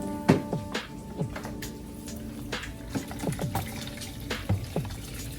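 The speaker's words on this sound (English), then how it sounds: "we're going to drain the spinach now" Water drains from cooked spinach into a sink in a home kitchen, an irregular run of splashes, trickles and drips, close by and moderately quiet, with no talking.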